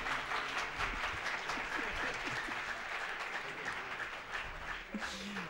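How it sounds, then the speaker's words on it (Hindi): Audience applause for Chinmaya Mission Kanpur at a gathering with a classical Odissi dance performance, steady dense clapping from a crowd that holds for several seconds before easing slightly near the end. "चिन्मय मिशन कानपुर के लिए एक जोरदार तालियां हो जाए"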